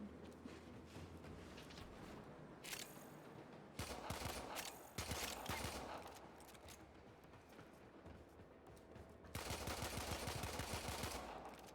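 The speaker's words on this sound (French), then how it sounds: "Alors t'entends mes bruits de balles?" Steady volleys of gunshots from the player's own weapon in Warframe, the video game, crackle through most of the stretch. The firing grows louder in a couple of sharper flurries, with no voices over it.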